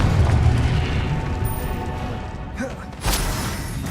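Confringo blasting spell in Hogwarts Legacy combat, a booming explosive burst with a heavy low rumble at the start, then a second sharp impact a few seconds later amid ongoing battle noise.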